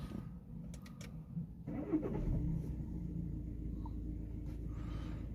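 An Audi A6 Ultra 2.0 TDI diesel with a particulate filter fault cranks and catches, then settles into a steady low idle rumble heard from inside the car.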